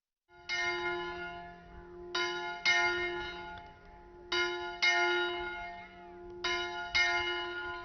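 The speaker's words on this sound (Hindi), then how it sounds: "दूसरी जानिब जब वक्त होता है तो चर्च पर लगी घंटी इस बात का ऐलान करती है कि मसीहियों की इबादत का वक्त हो चुका।" Church bell on a church announcing Christian worship time, ringing in four loud, resonant clusters of strikes with long ringing decay between, no voices.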